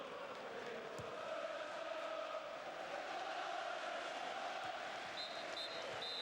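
A crowd of over 77,500 fills the stadium at the 1998 League Cup final between Chelsea and Middlesbrough, producing a steady, roaring wash of noise that holds at an even level throughout with no pauses.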